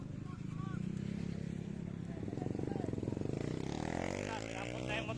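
A motorcycle engine drones steadily on a public road during street racing, loud and close. The pitch sweeps and shifts as the bike revs, and there is a faint rattle.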